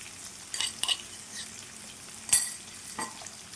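Ginger garlic paste frying in a pan gives a low, steady sizzle, broken by a few sharp scrapes of a spoon stirring it, with no one speaking.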